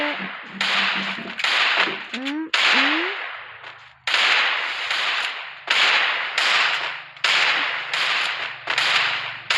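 Gunfire in the Free Fire battle royale game during a lone wolf match: loud, sharp shot bursts repeat about once a second, with a few brief whooshing, rising tones early on and no talking.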